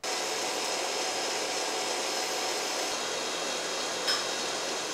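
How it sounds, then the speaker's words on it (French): Electric mixer or food processor whipping eggs and sugar, a steady loud whirring drone that runs unbroken and alone throughout. "je blanchis mes œufs à l'aide d'un robot ou d'un batteur électrique"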